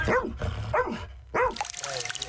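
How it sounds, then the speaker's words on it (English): A rescue dog trained to search wreckage after Russian strikes barks three times in quick succession, close and loud, followed by fainter outdoor noise. "That includes the team that trains this rescue dog named Joy to comb through the wreckage of Russian strikes looking for survivors"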